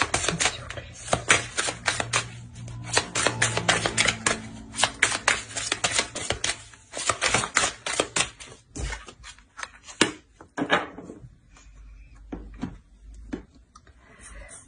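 Tarot cards are shuffled and drawn by hand, giving a dense run of quick papery riffles and flicks that thins out into scattered single slaps and taps toward the end, close and fairly quiet.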